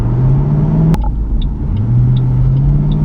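A 2008 Ford Mustang GT V8 rumbles steadily while driving, its loud low engine drone rising slightly in pitch after a brief shift-like break, with no talking.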